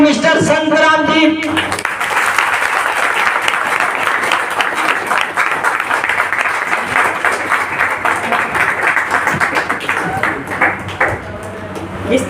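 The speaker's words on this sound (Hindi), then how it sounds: "आप सभी के जोरदार ताली के बीच I invite mister Santram ji" Sustained applause from an audience at a business celebration event, a dense, steady roar of clapping that carries on for over ten seconds after a brief musical chime at the start.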